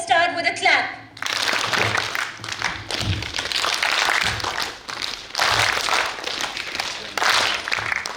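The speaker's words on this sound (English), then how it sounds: "let us start with a clap" An audience at a Toastmasters district meeting claps together in loud bursts that swell and fade, following a brief stretch of talk at the start.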